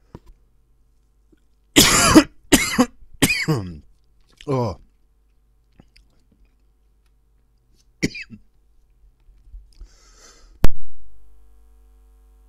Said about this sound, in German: Husterei. Ich werde es nie los.